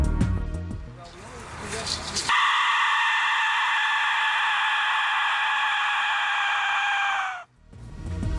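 A piercing, sustained shrill whistle blast from an ancient ceremonial clay whistle, held for several seconds, loud and harsh, with brief rustling before and after.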